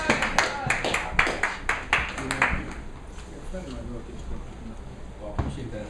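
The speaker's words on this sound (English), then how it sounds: "Round of applause." At a poetry open mic, a few people clap in a sparse, uneven burst of sharp individual claps that quickly dies away, leaving room noise and talk.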